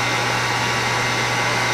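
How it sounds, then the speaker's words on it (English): A heat gun or blow dryer blows steadily on poured resin in a cup, giving a continuous, even airy whoosh with a low steady hum, close and alone with no talk. "sometimes you can take the heat gun or the blow dryer"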